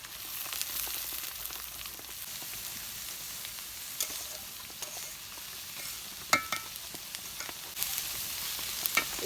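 Chili peppers frying in hot oil in a pan, a steady crackling sizzle with occasional sharper pops and stirring sounds, close by and without talk.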